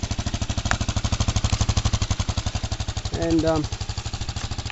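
Elstar Tank 250cc quad engine idling with a homemade fruit-tin exhaust muffler, a steady rapid thumping putter close by, with a brief voice over it.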